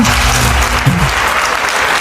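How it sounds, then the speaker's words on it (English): Loud, thick round of applause fills a large Las Vegas convention hall, a brief burst of many hands clapping at once with a low murmur underneath. "let's give everyone a round of applause for that participation"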